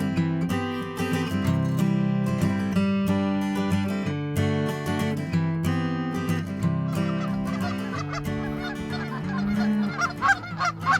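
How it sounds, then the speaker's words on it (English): A large flock of geese honks in Michigan during a waterfowl shoot, with dense overlapping calls close by that keep going without a break. "There's already a lot of birds flying"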